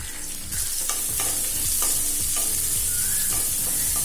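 Chopped green chillies, a dried red chilli and finely chopped onion fry in a pan for aval upma. A loud, steady sizzle runs throughout, with repeated stirring scrapes and no voices.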